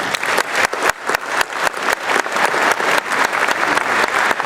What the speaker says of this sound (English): So I too, with another round of applause just for Michigan State University in general,